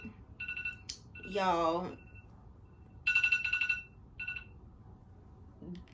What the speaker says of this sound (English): that was my alarm for my phone